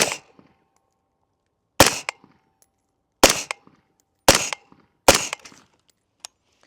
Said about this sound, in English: All right, that was 5 shots.